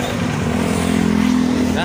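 A motorcycle engine idling and running with a steady low rumble, close and continuous, with someone talking over it.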